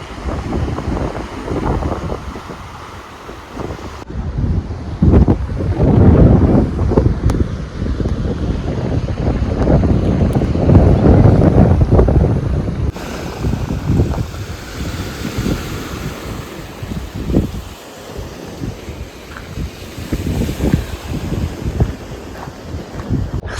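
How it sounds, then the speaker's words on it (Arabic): Strong wind in the hills of northern Tunisia roars across the microphone in heavy, uneven gusts, a loud rumbling buffet that swells and eases for over twenty seconds with no voices. "سارة اليوم طقس خايب معناها، وفما برشا هواء"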